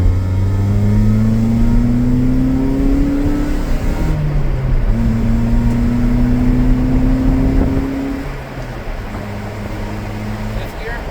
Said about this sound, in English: The exhaust sounds absolutely horrible